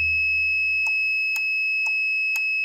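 A HOMPLEX HD300 gas detector sounds its alarm indoors: a continuous piercing high tone with four sharp evenly spaced pulsing beeps over it, loud and close, with a low hum underneath.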